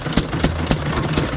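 An antique throttle-governed stationary engine at a grange fair runs steadily up close, firing on every stroke in a quick, even thumping rhythm over a low mechanical drone.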